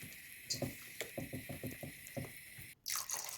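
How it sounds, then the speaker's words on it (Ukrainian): Water pours and splashes into a sauce for cabbage rolls in quick irregular bursts, close and fairly quiet, with a brief silent gap before the flow resumes. "І сюди додаємо водичку."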